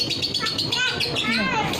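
Lovebirds chirping in a cage at a home during Lebaran festivities, a steady stream of bright, overlapping tweets close by, with people talking softly underneath.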